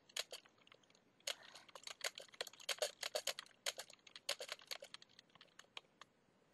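Quiet, close computer keyboard typing enters text in a Minecraft NPC editor, bursts of rapid clicky keystrokes with short pauses between words, no voices.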